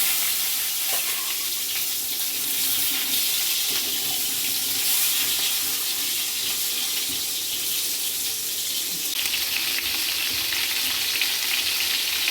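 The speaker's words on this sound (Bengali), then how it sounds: "ওই তেলে দিয়ে দিচ্ছি কেটে রাখা পটল।" Cut pointed gourd (potol) frying in hot oil in a Bengali kitchen, a steady dense sizzle that holds loud and unbroken, with the bright crackle growing slightly stronger toward the end.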